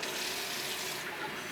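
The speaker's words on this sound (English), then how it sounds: "Fresh filter cold water every time you turn on your faucet" Water pours steadily from a kitchen faucet fitted with an inline filter, a close, even, continuous rushing stream with no pauses.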